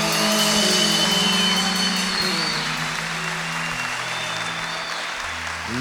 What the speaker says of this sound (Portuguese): E nós vamos dar um forte aplauso à presença do Espírito Santo no meio de nós.